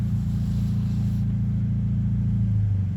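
A V8-swapped Toyota Corolla with a rear-mounted radiator holds its throttle down while one wheel spins on grass. A loud, close, deep engine rumble drones steadily and swells slightly near the end.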